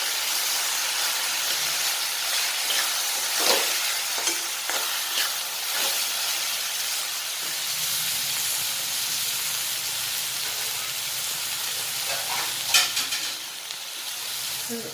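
Vegetables seasoned with turmeric and chili sizzle and hiss steadily in a hot pan, with intermittent scraping stirs cutting through the continuous frying noise, close and fairly loud.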